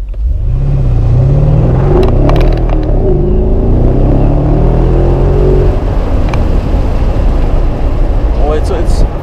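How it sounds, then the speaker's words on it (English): A 2017 Mercedes-AMG S500 cabriolet accelerates hard, its engine roaring loud and close as it revs up through rising gears, with brief shift pauses, then settles into a steady high-speed drone with wind rush. "Guys, let's see how this car accelerates. Just I will push it a little."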